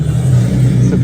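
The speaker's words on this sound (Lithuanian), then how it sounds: "Maybacho variklis" A Maybach engine runs in a short burst, a loud, steady low-pitched rumbling drone heard up close with no voices over it.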